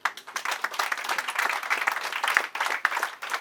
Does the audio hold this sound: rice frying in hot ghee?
no